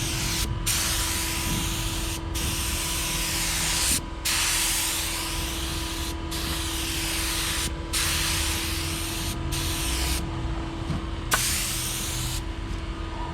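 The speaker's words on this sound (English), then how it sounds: "We're trying to get the spray to not be all over the truck." Spray gun painting a Ford F350 truck in a shop, a steady loud hiss in long bursts separated by brief pauses, close to the microphone and with no talking.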